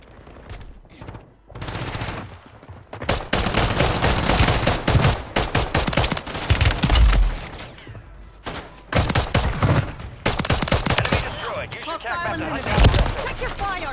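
Rapid gunfire from a Battlefield-style shooter on the New Fortunes Keep map: dense, continuous automatic bursts and shots with brief gaps, while voices shout over the battle.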